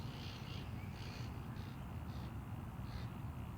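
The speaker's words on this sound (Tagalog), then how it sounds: "Nag-aaway yung dalawang crawl. Yung dalawang uwak." Two crows caw repeatedly while fighting outdoors, several short harsh calls in uneven bursts at moderate distance, layered over a constant low rumble of background noise.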